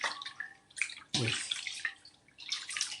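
Hands rinsed under warm running water in a home skincare routine, with irregular splashes and trickling bursts, close by, and a brief spoken word.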